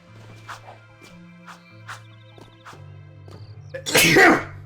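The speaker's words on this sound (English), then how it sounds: "I feel like I gotta frickin' sneeze." A single sharp sneeze bursts out near the end, loud and close, following quiet video game music and sound effects.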